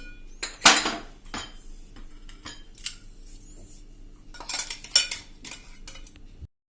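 Powder is scraped from a container into a bowl: a few sharp metallic clinks and soft scraping strokes, close and quiet, with no talking.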